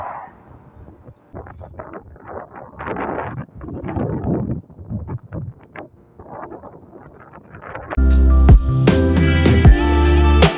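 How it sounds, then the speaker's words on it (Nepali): Gusty outdoor wind near the Dubai Frame in the United Arab Emirates buffets the microphone in uneven rumbling bursts for about eight seconds before music takes over. "हावा चल्यो सरर"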